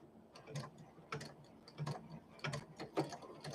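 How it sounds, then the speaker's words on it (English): A sewing machine with a walking foot does top stitching on a nearly empty bobbin, giving a quiet, rhythmic mechanical ticking and clatter in short repeating bursts. "let me see if I can get all the way around this doing top stitching with the bobbin I have"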